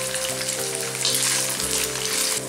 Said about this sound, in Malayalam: ഇനി ഇതുകൂടി ഒന്ന് ഈ എണ്ണയിലിട്ടൊന്ന് വറുത്ത് കോരി എടുത്ത് വെക്കാം